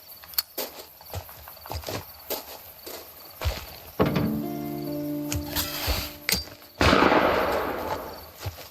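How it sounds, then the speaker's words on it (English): Sharp gunshots ring out in a cold outdoor scene in the video game Who Is Abby: several isolated cracks early on, then a louder, denser burst of fire with ringing tones near the end. "Who the hell is shooting?"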